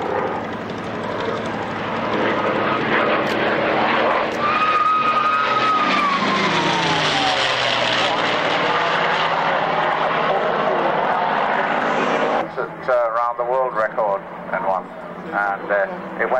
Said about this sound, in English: Still with Merlins, of course, in the DC-1s, and although they are Packard Merlins